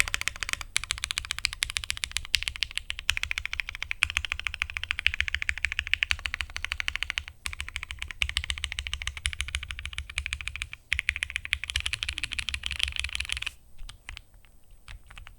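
Rapid typing on a Thera75 mechanical keyboard with Ink switches and a slightly hollow spacebar, a dense, close, steady stream of clacking keystrokes that stops near the end.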